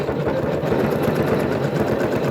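Janome Skyline S9 embroidery machine stitching a trapunto quilting design on wadding, a rapid, even mechanical chatter of needle strokes running continuously at close range.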